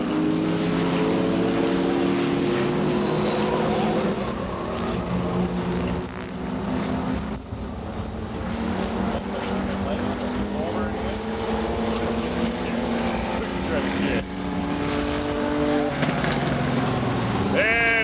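Race cars lapping the oval at Bryar Motorsports Park during a 1985 weekly race, engines droning continuously and fairly loud with rising and falling pitch as cars pass, over steady background noise.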